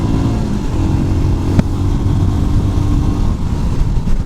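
Royal Enfield Scram 411 motorcycle pulling hard at full throttle in second gear, a loud, continuous engine drone with wind roar, one brief click partway through, no voices.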